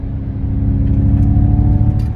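Ford Mustang Mach-E Mach 1 electric vehicle's rear wheel motors whirring, a steady close low drone with tonal hum that swells slightly as it accelerates, no talk.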